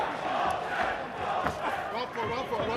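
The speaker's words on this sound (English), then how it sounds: "Crowd trying to lift the local man, Brent Walton, the wild man" Boxing fight crowd roaring and cheering in a loud, continuous wash of voices that swells briefly, with an announcer's voice underneath.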